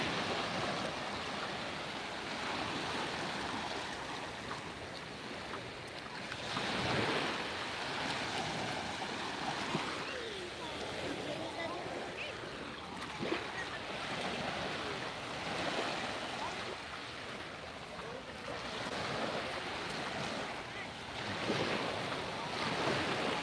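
Ocean waves wash steadily onto a beach at South Marco, Florida, at sunset, heard close with wind rushing across the microphone. The surf rises and falls continuously with no talking.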